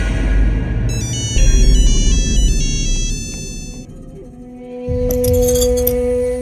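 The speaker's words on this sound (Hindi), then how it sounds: "अरे कब से बज रहा था? वो मेरे एक स्टूडेंट का फोन था" A mobile phone ringtone plays a bright repeating melodic pattern, loud and close, in a TV drama scene.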